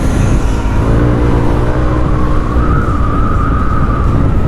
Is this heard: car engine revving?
yes